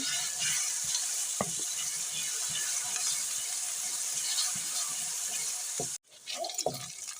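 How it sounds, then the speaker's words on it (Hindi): Onions and garlic-ginger paste cooked in ghee in a pan, stirred with a spoon: continuous sizzling with scraping strokes, a brief break near the end, then more stirring. "यहाँ पे डालेंगे लहसुन अदरक का पेस्ट 1 चम्मच। ठीक से मिक्स करेंगे।"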